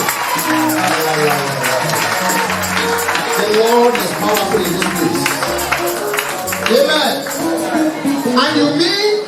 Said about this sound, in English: Somebody can you clap for Jesus?